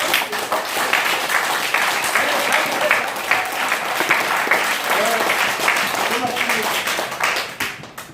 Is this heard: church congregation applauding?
yes